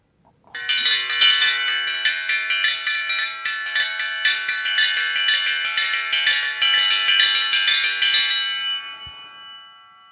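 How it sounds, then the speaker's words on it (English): A dinner bell or dinner triangle rings loudly and rapidly for about eight seconds, its bright metallic tones struck over and over before fading into a lingering decay. "Very much like a dinner bell, or dinner triangle."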